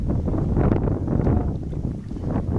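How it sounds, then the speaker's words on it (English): Strong wind roars steadily and loudly across a lake during a canoe trip in the Boundary Waters near Little Indian Sioux, buffeting the microphone with continuous low rumble and gusts and no speech. "Wind is bad."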